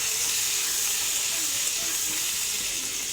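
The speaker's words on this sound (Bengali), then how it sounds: "আলুটা ভাজতে দিয়ে দেবো" Boiled potato frying in mustard oil in a kadai, a steady hissing sizzle that holds even throughout, fairly soft and close with no voices.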